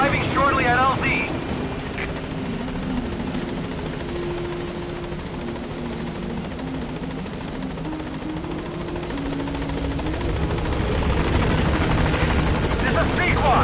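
A helicopter in Metal Gear Solid V: The Phantom Pain approaches the landing zone, its steady rotor drone and engine hum filling the whole stretch at an even, loud level, with radio voice chatter over it.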